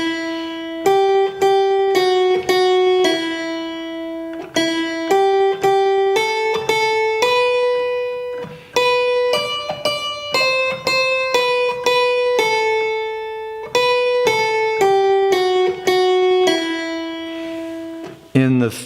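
A single unaccompanied hymn melody with many repeated notes, played note by note on a keyboard-like instrument, clear and close with steady phrasing and brief pauses between phrases.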